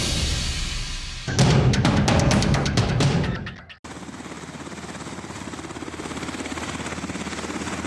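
A rescue helicopter flying over mountains, its steady rotor thudding loud and close for a couple of seconds before giving way to a continuous broadband engine and wind roar.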